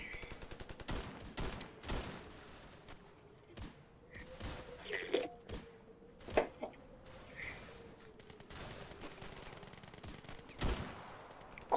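Scattered gunfire from the Ravenfield video game pops in faint, sharp shots and short bursts throughout, quiet and somewhat distant.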